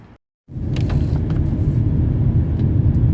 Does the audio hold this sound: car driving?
yes